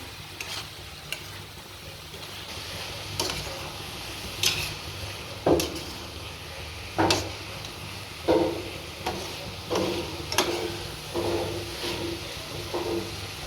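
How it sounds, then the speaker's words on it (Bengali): A spoon stirs soybean curry in a sizzling pan, with a steady frying hiss broken by a series of regular scraping knocks against the pan, close and fairly loud. "এখন নেড়ে চেড়ে নামিয়ে ফেলবো"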